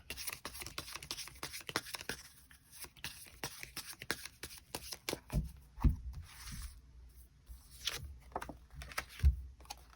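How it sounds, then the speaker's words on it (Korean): Tarot cards are shuffled and drawn, giving a busy patter of soft riffling clicks and slides, then a few heavier taps and thumps as cards are laid down, close and quiet with no talking. "추가 카드 뽑아보도록 하겠습니다"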